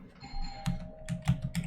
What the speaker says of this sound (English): Oh, doorbell's ringing.